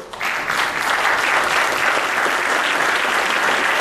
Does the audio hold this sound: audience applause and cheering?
yes